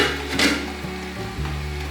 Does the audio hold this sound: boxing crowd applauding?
no